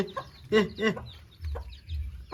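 Close clucking from a hen among chicks, a few short clucks followed by soft low murmuring, faint and intermittent.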